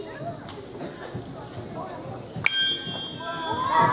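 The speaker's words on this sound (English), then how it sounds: "This is a tuning fork. If I hit it, it's going to vibrate." A tuning fork is struck once with a sharp clang and then rings with a sustained steady tone, heard among indistinct murmuring and movement in a live science show setting.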